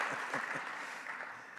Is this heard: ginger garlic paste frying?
no